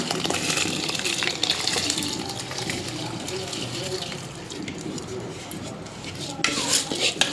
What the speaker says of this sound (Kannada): ಇವಾಗ ಎಲ್ಲಿ ತೊಳೆದಿಟ್ಟಿದ ಅಕ್ಕಿ ಹಾಕ್ಲತ್ತಾರ